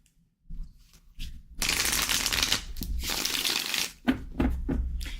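A deck of cards being shuffled up close: a soft opening rustle, then a long dense riffling burst followed by several short, sharp shuffle flurries, with no talking.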